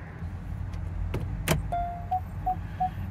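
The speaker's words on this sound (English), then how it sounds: "upon putting it into reverse, the mirrors tilt down to show you where you're backing up to" Side mirror motors on a 2020 Kia Telluride whir briefly as the mirrors tilt down in reverse, several short faint electric hums among clicks and low engine idle.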